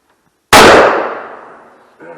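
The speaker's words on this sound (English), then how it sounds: "we're going to be shooting the Remington single action SPR 100. 20 gauge" A single loud, close gunshot from a Remington SPR 100 single-shot 20 gauge shotgun with an 8-shot express load at an outdoor range, a sharp blast that decays over about a second and a half before a brief voice.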